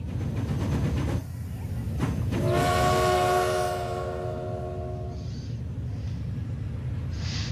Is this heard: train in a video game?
yes